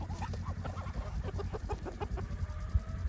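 Several chickens cluck in a steady busy chorus, close by, with occasional louder squawks and a constant low background rumble.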